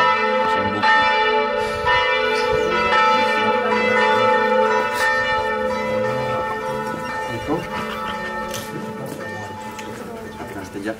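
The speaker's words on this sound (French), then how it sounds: "J'adore les cloches, j'adore tout ça." Church bells ring continuously with overlapping tolls and a lingering hum, steady and fairly loud, with faint voices and clatter underneath.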